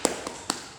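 Three sharp hand claps spaced out in a quick cheer rhythm, a classroom 'tepuk semangat' chant clap, fairly close and crisp with quiet room tone between.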